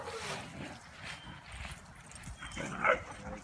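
Puppies yip, whimper and bark softly as brother and sister play together, with faint scuffling noise and a little background chatter.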